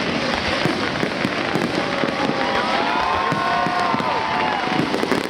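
New Year's fireworks over South Bank in Brisbane, a dense, continuous crackle and popping of bursts with whistling trails, heard loud and close with a large crowd murmuring and cheering underneath.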